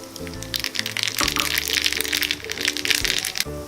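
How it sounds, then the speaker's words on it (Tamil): Mustard seeds crackling and popping in hot oil during tempering for coconut chutney, a dense continuous spatter of sharp little pops over a low background hum, close and fairly loud, with no talk. "தேவையான அளவு எண்ணெய் ஊத்திக்கோங்க. கடுகு ஆட் பண்ணிக்கோங்க."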